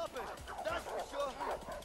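A dog in the video game A Way Out lets out a run of rapid, close yips and whimpering barks, heard under a man's speech.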